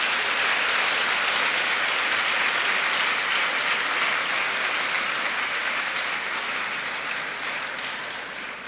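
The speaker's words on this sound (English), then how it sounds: "Please let's give him another round of applause." An audience at a university inaugural lecture claps in sustained, dense applause that fills the room evenly and slowly fades toward the end, with no voices over it.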